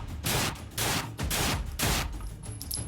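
Handgun shots fired during low-light combat training at an academy range land as four loud, broad bursts about half a second apart, close and booming with a rough tail between them.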